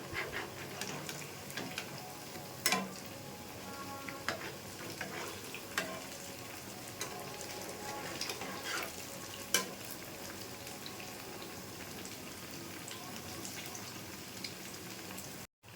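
Sweets fry in refined oil in a wok, a soft, steady bubbling sizzle with occasional small pops and clinks, fairly quiet throughout.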